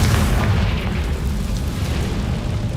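Magical blasting-spell explosion, a loud, sustained low rumbling boom with a dense roar that stays steady without a sharp decay, close and with no voices.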